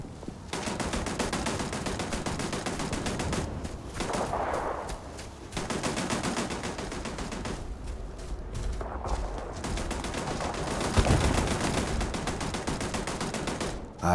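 Sustained turret gunfire in Starfield, rapid automatic bursts rattling almost nonstop at steady loudness, with heavier impacts near the end.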